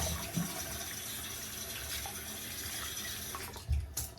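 Running tap water flows steadily at a bathroom sink as a face is rinsed after shaving with a vintage Gillette Senator open-comb razor, with a couple of splashes near the end.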